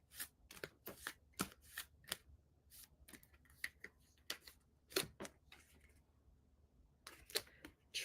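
Affirmation cards shuffled by hand in a quiet room, a string of crisp riffling bursts and soft slaps in irregular rhythm, close and fairly clear with no talking.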